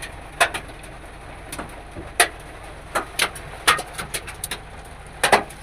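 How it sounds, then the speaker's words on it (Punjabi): Scattered sharp ticks and taps land irregularly, hailstones striking a hard surface nearby during a rare hailstorm in Saudi Arabia, over a faint steady background hum. "ਦੇਖ ਸਕਦੇ ਹੋ ਮਿੱਤਰੋ ਗੜੇ ਪੈ ਰਹੇ ਆ"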